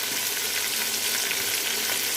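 Tomatoes sizzle steadily in a hot pan for chicken biryani, a continuous close frying hiss with faint stirring and no talking.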